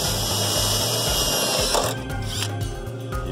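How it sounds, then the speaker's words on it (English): A power drill whines steadily while boring holes in the firewall of a 1969 Plymouth Road Runner B-body during a drum to disc brake conversion. The pitch shifts partway through and the drill keeps running loud and close. "So we gotta drill 2 more holes in the firewall."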